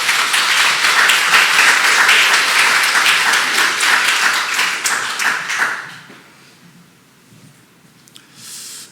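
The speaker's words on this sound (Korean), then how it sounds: "우리 박수로 환영하겠습니다." Church congregation at a Sunday worship service applauding to welcome a missionary speaker, a dense burst of many hands clapping for about six seconds that then fades quickly into quiet.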